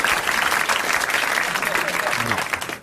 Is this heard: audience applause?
yes